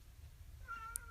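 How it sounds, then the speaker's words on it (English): A pet cat gives a single short, faint meow indoors, rising briefly at the end of an otherwise quiet moment. "Sorry if you hear any meowing, my cat has decided to be vocal."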